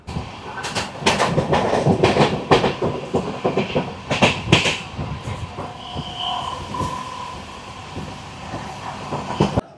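A moving train near Ranaghat clatters along the rails, rapid rhythmic clicks and rumble loud at first, then easing into a steadier hum with faint squeals.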